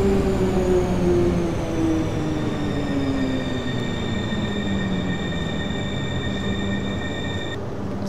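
An ÖBB 4020 electric train braking to a stop in a station in Train Simulator, with a steady rumble, descending motor whine and faint high brake tones that fade out near the end, no talk.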